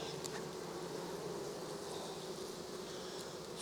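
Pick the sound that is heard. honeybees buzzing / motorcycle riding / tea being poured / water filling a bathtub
honeybees buzzing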